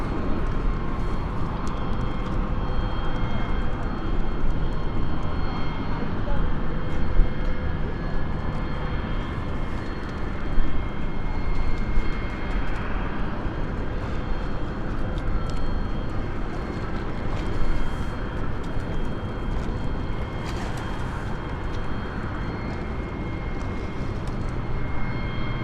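An Embraer E190 jet at London City Airport gives a steady distant roar of engine noise that holds throughout with slight swells, with no talk.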